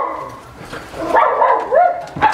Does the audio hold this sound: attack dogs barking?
yes